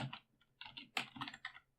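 Quick bursts of clicky computer keyboard typing sound close and quiet, with irregular clusters of keystrokes and brief pauses between them.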